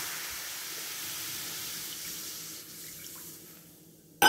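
Water pours steadily into a pan to make a rice-flour starch for gochujang sauce, a continuous close rushing splash that fades slightly near the end before a brief louder knock.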